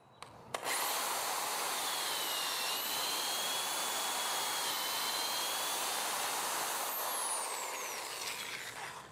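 Drill boring holes about an inch to an inch and a half deep in a garden setting, a steady whirring grind held for several seconds after a sharp start, fairly faint and with no talk.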